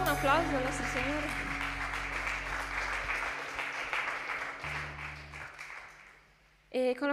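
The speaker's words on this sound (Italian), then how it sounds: "Facciamo un applauso al nostro Signore." Congregation applauding during an Italian church worship service, a steady dense crowd clapping that fades out toward the end, with sustained organ or keyboard tones underneath and a brief sung or spoken phrase returning at the close.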